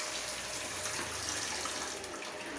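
Vegetable stems for a dry-fried stir-fry being rinsed in water, a steady running-water wash with faint splashing, continuous and fairly quiet with no talking.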